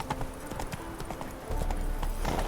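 A horse named Roach gallops in a video game with quick rhythmic hoofbeats and a brief snort, close and clear, over a low background hum and light game noises.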